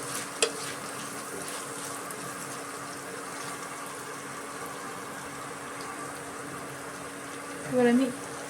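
Prawns fry in a chilli garlic sauce in restaurant style, giving a steady low sizzle and bubbling with light stirring throughout and a brief louder scrape near the end.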